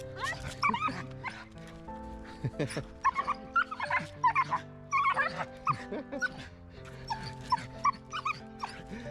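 An excited dog whimpers, yips and whines in rapid, high-pitched bursts close by, with occasional short barks and people talking softly between the cries.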